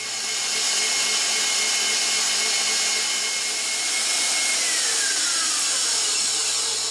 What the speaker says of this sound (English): We're going to put those on the mixer and we're going to beat the crap out of them.